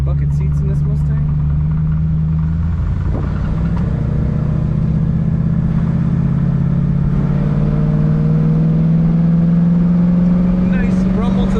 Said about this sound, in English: Nice rumble to the exhaust in this car.